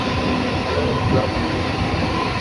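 Steady rumble and rattle of a moving train, a continuous dense roar with faint clacking and a brief squeal.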